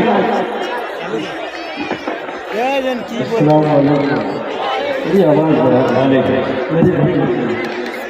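A large crowd chatters at a mushaira poetry gathering in Bhagalpur, a continuous dense murmur of many voices with occasional laughs, close and fairly loud throughout.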